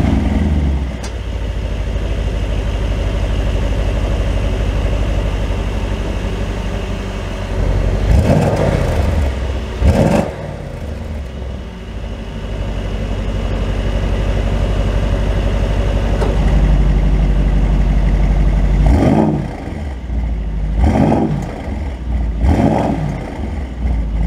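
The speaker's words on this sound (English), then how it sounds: "Let's get some quick rev clips" A 2022 Mercedes-AMG SL63 roadster engine idles loudly, then gets several sharp revs: one pair of quick blips near the middle and a cluster of three or four toward the end, with no talking.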